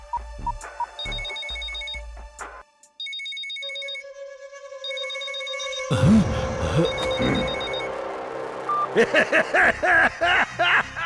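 Telephone ringtone from a children's cartoon episode as a call is placed to a kidnapper, repeating electronic ring tones in bursts over background music, with busy sound effects joining later.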